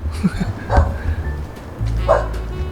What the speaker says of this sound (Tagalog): May maawat na aso.